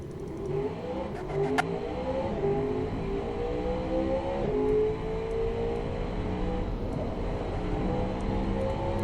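A car engine in the Automation game drives a lap of Laguna Seca, droning and revving steadily with pitch rising and dipping through gear changes.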